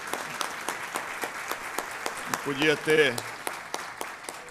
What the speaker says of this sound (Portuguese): De forma que eu pedia aí uma salva de palmas ao Jurandir